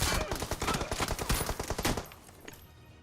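Rapid automatic gunfire from a BGMI battle royale match, a dense burst of shots for about two seconds that then breaks off into quieter scattered sounds.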